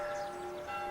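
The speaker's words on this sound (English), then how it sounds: "Bells?" Church bells in the village of Greendale ring faintly in a brief, sustained tone with a steady hum. The sound comes from a distance, and no one speaks over it.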